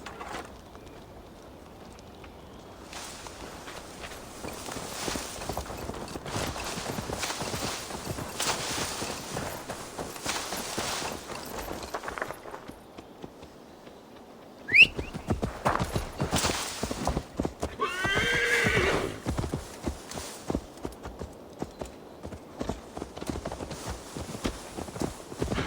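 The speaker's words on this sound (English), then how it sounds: "Now to deliver Magni his horse." Hooves clip-clop on the ground in the video game Assassin's Creed Valhalla, fading in and out with a brief pause midway, then resuming at a brisker, louder pace.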